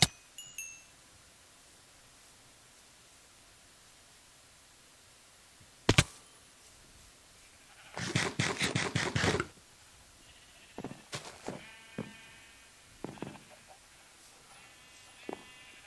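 A burst of Minecraft sheep bleating rises over quiet ambience, with a few brief clinks and small sounds scattered before and after.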